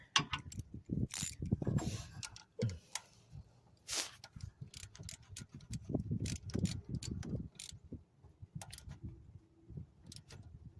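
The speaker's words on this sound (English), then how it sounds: "After you line them up, just go ahead and torque it down." Ratchet wrench clicking in short bursts while torquing down a small thermostat bracket bolt on a 2012 Honda Civic, close and fairly quiet with a few sharper metallic ticks between pauses.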